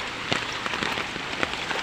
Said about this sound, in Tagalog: Tama na po ang ulan.